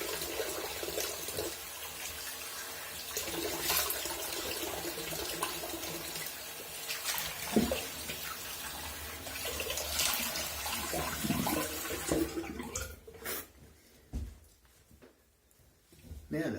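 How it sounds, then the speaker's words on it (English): A bathroom sink tap runs steadily while water is splashed onto a face, a constant hiss with irregular splashes that breaks up near the end into separate drips and splashes as the flow stops. "let me go down here and throw some water on my face."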